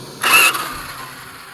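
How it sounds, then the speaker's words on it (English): A UDIRC Sierra 1203 Pro RC truck's electric drive gives a short, loud, bright whirring burst as it accelerates, then quickly drops away to quiet background hiss. "I'm gonna give it throttle, then right before it stops, right before it gets to a stop, it auto brakes."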